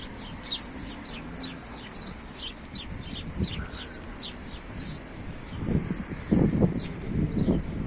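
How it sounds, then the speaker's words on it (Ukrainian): House sparrows chirp repeatedly in high, quick bursts from bushes in Italy, with low rumbling noise and a few louder thumps toward the end. "Горобчики тут десь сидять і цвірінькають в кущах."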